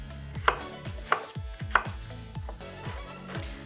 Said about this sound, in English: Now it's time to fry our onion. So we're gonna chop it really nice and finely.